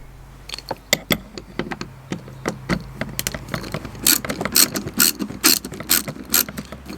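Ratchet driver with a star bit undoing a screw on a car's keyless entry part, a run of sharp ratcheting clicks in uneven bursts, close and alone, louder toward the end.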